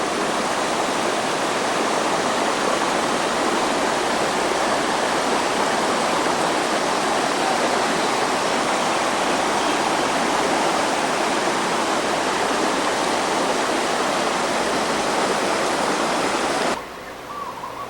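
The river flowing out of Waimea Falls in Hawaii gives a steady, full rushing roar of water that continues unbroken for many seconds before it drops off suddenly near the end.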